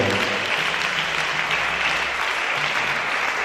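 A congregation at a Christmas church service applauds and acclaims, giving a thick, sustained roar of clapping that stays loud and even from start to finish.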